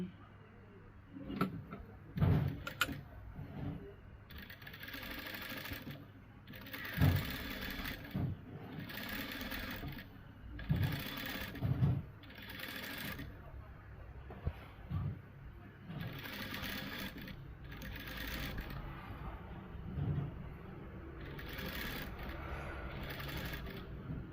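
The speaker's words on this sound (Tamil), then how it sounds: "நான் இதை திருப்பி இந்த துணியில், அதாவது வந்து லைனிங் துணியில் தையல் போட போகிறேன்" A sewing machine stitches lining fabric in short, repeated bursts of close mechanical whirring separated by brief pauses, with faint background sounds.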